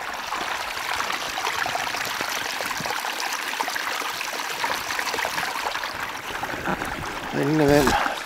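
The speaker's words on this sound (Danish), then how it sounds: "Der er adskillige små kildevæld, der går ud her fra bakkerne." A small spring stream trickles down from the hills to the sea at Mols Hoved, Denmark, a steady close rushing and burbling of water that grows louder and splashier toward the end.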